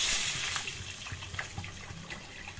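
Water pouring from a tap into a cooking pot while making badi phula, a steady splashing gush that is fairly faint and close, with a few small clinks, and no voices.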